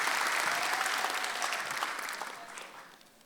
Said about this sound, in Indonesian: Boleh tepuk tangan untuk saya.